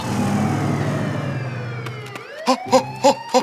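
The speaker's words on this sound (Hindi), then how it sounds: "ये तो पुलिस का सायरन है" A police siren in a children's animated adventure winds down in a long falling wail, then gives way to a series of short, loud hooting bursts near the end, with no talk over it.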